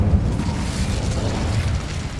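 Incendio fire spell cast in Hogwarts Legacy, a dense burst of whooshing, crackling flame noise that holds steady for about two seconds with no voices over it.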